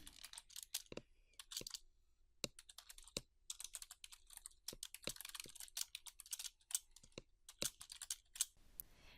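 Someone types out a line in a script editor on a computer keyboard, a steady stream of quiet, irregular key clicks with short pauses.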